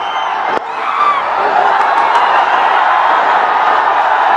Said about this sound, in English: The crowd has found its voice again.